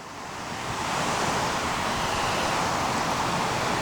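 Water rushes at the Runchet River waterfall in Gorkha, Nepal, a dense, steady roar that rises over the first second and then holds loud and unbroken.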